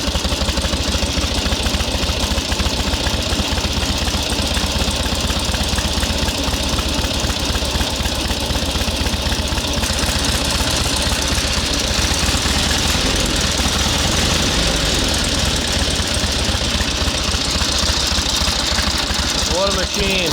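A 1912 Excelsior motorcycle engine, 111 years old and started by pedaling, runs steadily and loud for the whole stretch with a dense, continuous mechanical drone.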